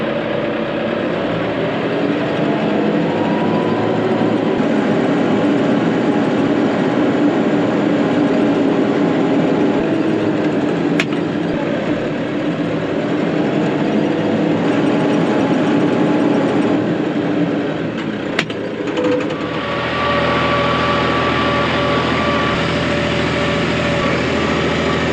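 A tractor pulling a manure spreader drones steadily for a long stretch, with shifting pitch as it labors, and mechanical clanks near the end; no voices.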